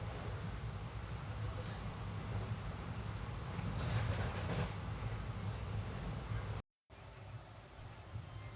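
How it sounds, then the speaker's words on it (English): The Matsyagandha Express rolling on rails during a monsoon run, a steady rumbling roar heard from inside the train with a faint rhythmic clatter and a brief swell midway, no talking. "We roll into Mangaon station at 6:06 for a scheduled halt."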